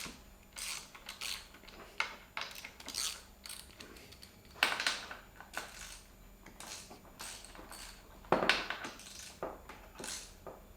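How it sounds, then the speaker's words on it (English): Tools work on the top triple clamp bolts of a 2019 KTM 250 EXC TPI motorcycle, giving quiet metallic ratcheting clicks and scrapes in irregular bursts, close up with no talking. "the next step is to loosen the top triple clamp bolts"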